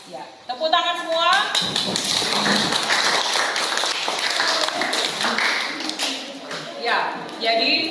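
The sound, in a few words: classroom clapping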